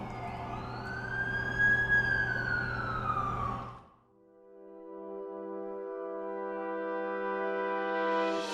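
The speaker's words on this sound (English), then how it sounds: "That's the ambulance I called." An ambulance siren from The Amazing Spider-Man 2 video game wails loudly in a rising and falling tone, cuts out briefly around midway, then returns as a steady, sustained siren pitch with no talking.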